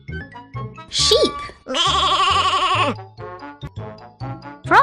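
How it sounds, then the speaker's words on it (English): Sheep bleating in several wavering calls, close and clear, with short gaps between cries and a bright jingling burst near the start, set among farm animal sounds. "Sheep."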